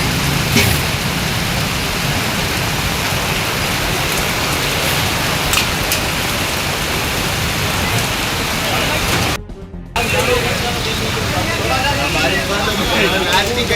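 Unseasonal rain pouring steadily in Udaipur, a dense, even hiss of falling drops on surfaces with faint traffic underneath and a brief cut near the end; a voice speaks over it.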